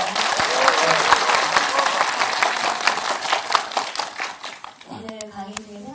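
A lecture audience in a cinema hall applauds loudly, dense clapping going on for several seconds before it fades and a voice begins speaking.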